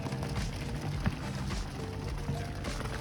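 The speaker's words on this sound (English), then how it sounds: "And it's beginning to rain." Rain beginning to fall on a Toyota MR2 Spyder parked outdoors during a soft top replacement, a steady hiss of drops pattering with a few louder taps, close and continuous.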